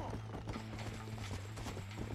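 A horse's hooves clip-clop steadily at a trot in the Red Dead Redemption video game, heard faintly under a low steady hum and game ambience.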